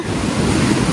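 Fast-flowing Koksu river water rushing in a mountain valley, a loud, steady broadband roar with wind buffeting the microphone, continuous and close throughout.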